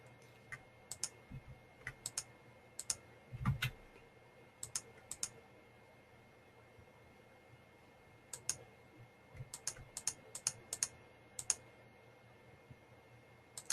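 Keys on a computer keyboard click in scattered bursts and short runs in a quiet room, fairly faint and close, with no voices.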